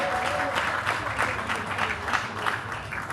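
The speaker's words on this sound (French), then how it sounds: "On acclame le Seigneur." A church congregation applauding together, dense steady clapping close by with rhythmic surges throughout, a few cheers faintly mixed in.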